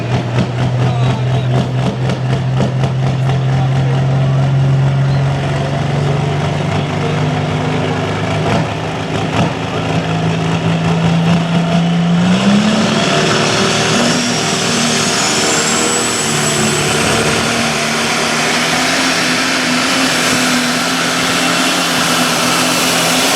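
A pulling tractor's engine drones continuously at a tractor pull, a loud sustained roar that holds steady, then rises sharply in pitch about halfway through and keeps roaring to the end.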